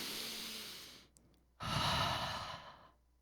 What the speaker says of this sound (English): you're breathing in, a stomach expands out. When you breathe out, your stomach comes in